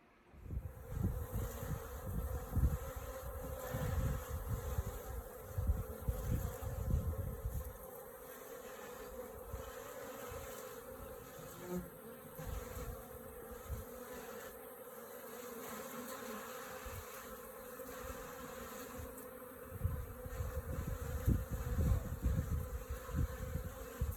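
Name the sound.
honey bees buzzing at a water source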